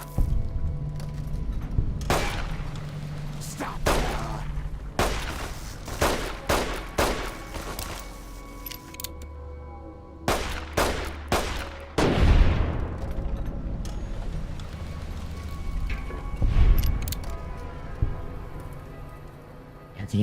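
NCR soldiers firing on the player in Fallout: New Vegas: scattered sharp gunshots and clustered volleys, some near and loud, others distant, over a steady hiss of ambient noise.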